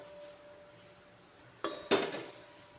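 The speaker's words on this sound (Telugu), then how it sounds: "స్టవ్ మీద అయితే ఇలా ప్యాన్ పెట్టుకున్నాం కదా" A pan set down on a kitchen stove gives two quick metallic clanks in close succession, near and fairly loud against a quiet background hum, while preparing a tomato curry.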